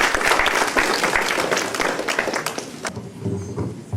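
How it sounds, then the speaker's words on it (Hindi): An audience at a Hindi Diwas celebration applauds to welcome a singer, lively clapping that runs for about three seconds and then fades out, leaving a low hum and some faint room sounds. "प्लीज़ जोरदार तालियों के साथ उनका स्वागत।"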